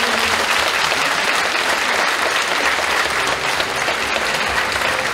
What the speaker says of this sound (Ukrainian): Оплески Олександру